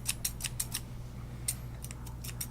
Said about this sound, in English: take my thinning shears and just kind of clean it up